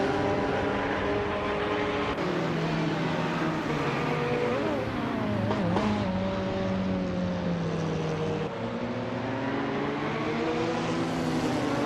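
A 2012 Nissan GT-R race car in a racing video game, its engine droning loud and steady for the whole stretch with rising and falling pitch through gear changes, alone with no talk.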